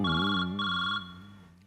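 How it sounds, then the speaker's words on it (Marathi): Steady electronic phone ringtone with a repeating warbling melody, loud and close, ringing alone with no voices, during a Marathi comedy sketch on stage. "वसाडीचा फोन आला आणि खिसा कुठे गेला?"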